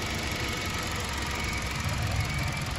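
A Toyota Altis 1.6 with a 1ZR engine idles with the air conditioning switched off. It makes a quiet, even, steady hum with a faint high whine and no voices.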